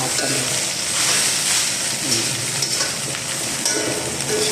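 Potatoes frying in a pan and being stirred, a loud, dense, continuous sizzle close up with faint scraping of the utensil running through it, and nobody speaking.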